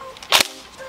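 A G&G L85 A2 airsoft rifle fires a single BB shot, a short sharp snap with a bright burst, close and alone, with quiet background around it.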